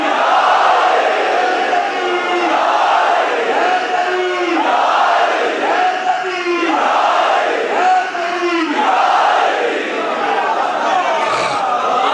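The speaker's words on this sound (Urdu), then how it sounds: "ایمان کا اعلان کرنے کے لیے بلند آواز میں نعرے حیدری" A large crowd at a religious majlis gathering loudly chants the Naara-e-Haidari slogan in repeated surging shouts, a dense mass of voices that rises and falls over about twelve seconds.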